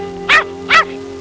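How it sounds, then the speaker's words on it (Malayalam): A dog barks twice in quick succession, two sharp, fairly loud barks about half a second apart over a steady low hum, with no talking. "എന്താ ഈ പട്ടിക്ക്?"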